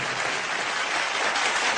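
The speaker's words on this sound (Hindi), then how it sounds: "मैं चाहूंगा एसपी साहब के लिए जोरदार तालियां।" Brief burst of dense audience applause in a TV comedy studio for a guest singer, a steady wash of clapping at moderate loudness with no speech.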